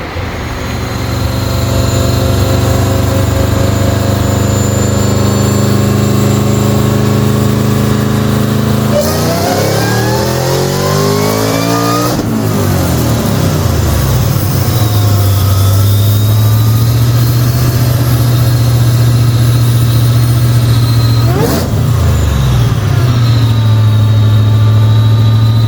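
A 2014 Ford GT500 engine on a dyno idles with a deep steady rumble, then revs hard in rising sweeps, drops back, and pulls up again, loud and close with no talking.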